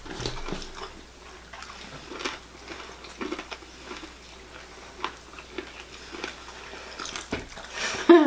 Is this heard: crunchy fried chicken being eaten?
yes